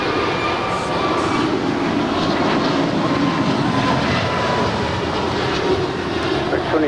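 An airliner taking off from runway 25 right at Los Angeles LAX airport, a loud, sustained roar and rumble that holds steady through the whole stretch.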